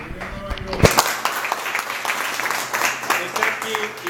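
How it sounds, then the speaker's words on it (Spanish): Audience applause at a political campaign event, clapping that swells after a brief voice and carries on as a dense, moderately loud patter with scattered louder claps. "yo voy a pedir un aplauso"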